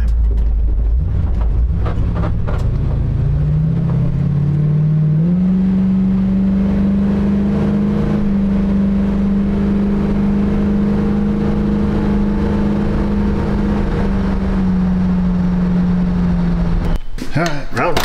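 A 1966 Ford Mustang drives down the road with manual brakes, its engine droning loud and steady in the cabin after a rising pull, ending abruptly.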